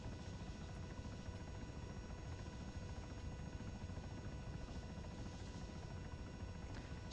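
A CH-67 Huron helicopter flying in ARMA 3, its steady rotor and engine drone holding continuously at an even level throughout, with no voices.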